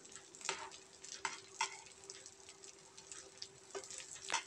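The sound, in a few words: whole garlic cloves and onion frying in oil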